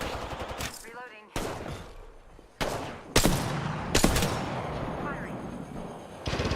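Gunfire in a video game, several sharp loud shots and short bursts spread irregularly across the clip, heard over and between talking voices.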